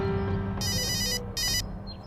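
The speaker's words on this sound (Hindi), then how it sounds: "अरे किसका फोन आ गया?" A phone rings nearby in two short electronic bursts over a low background hum.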